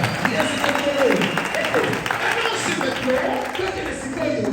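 Church congregation applauding and acclaiming during a French-language sermon, with a steady patter of clapping and raised voices beneath a speaker.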